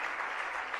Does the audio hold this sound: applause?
yes